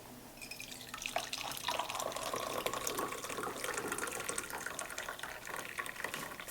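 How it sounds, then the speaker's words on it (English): Hot coffee from a Technivorm Moccamaster coffee maker streams into a cup with a soft, continuous liquid trickle and faint splashy drips, fairly quiet and steady throughout. "then we'll just pour a cup of coffee"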